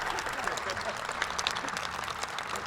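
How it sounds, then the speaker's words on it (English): A ceremony audience applauds at the groundbreaking for Washington State University's Taylor Sports Complex, a dense, even patter of many hands clapping at moderate distance for a few seconds. "So if we can give Kirk a big round of applause."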